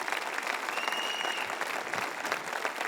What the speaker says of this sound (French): Est-ce qu'on peut applaudir les 35 ans ou moins partout à travers cette salle?